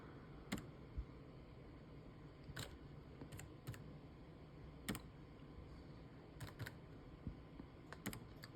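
Keys clack on a computer keyboard in scattered single taps and short runs against a quiet room hum, faint and close, while a telnet command is entered.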